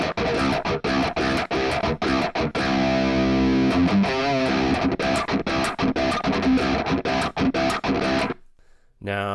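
Tight, palm-muted chugs from an electric guitar with Seymour Duncan Alpha/Omega pickups, set to a dirty rhythm tone, hammer out a fast syncopated riff with ringing notes in between before cutting abruptly to silence.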